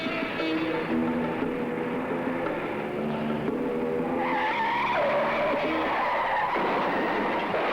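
Car tires screech in a long, loud, continuous skid under hard braking, the tonal squeal wavering and shifting pitch across several seconds.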